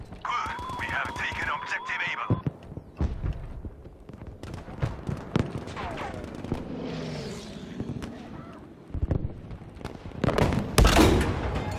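Gunfire from an enemy on a ship in the Battlefield V shooter game pops in scattered bursts and sharp cracks amid a busy battlefield, with distant rumbles, a short tonal tone at the start and a heavy blast near the end.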